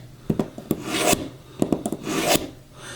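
A knife blade is drawn through a ceramic sharpener, giving gritty rasping strokes in two bursts, each with sharp scraping clicks and a grinding swell, close and loud with no talking.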